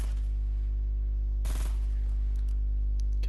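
A single short burst of Fortnite assault rifle fire cracks out over a steady low electrical hum, brief and fairly close, with no talking.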